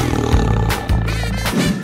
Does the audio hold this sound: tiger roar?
yes